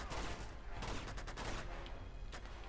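Rapid gunfire from a firefight in Uncharted 2, with bursts of shots crackling in quick succession over about three seconds, moderately loud and fairly close, with no talking.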